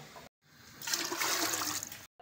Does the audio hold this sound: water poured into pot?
yes